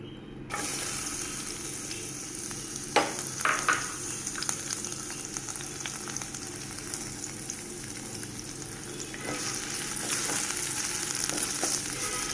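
Onion sautés in ghee or oil for a taco filling, giving a steady broad hiss that holds for the whole stretch, with a few light utensil scrapes and clicks early on; close up, no voices.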